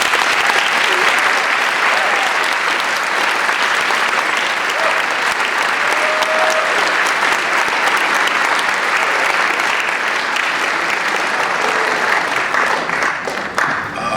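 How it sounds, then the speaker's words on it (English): A dense, steady round of audience applause for student performers at a 1950s-themed school evening show, loud and sustained for about fourteen seconds before thinning out at the end. "If I could right now get a round of applause for all of the student performers again,"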